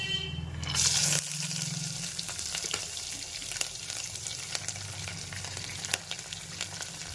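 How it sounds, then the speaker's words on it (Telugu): Onion, green chilies and peanuts hit hot oil in a pan for vegetable upma, starting with a loud burst of sizzling that settles into a steady close frying crackle with a few stirring clinks. "ఇప్పుడు కట్ చేసి ఉంచుకున్న ఆనియన్ పచ్చిమిర్చి పల్లీలు"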